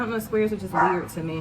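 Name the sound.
dog barking in the background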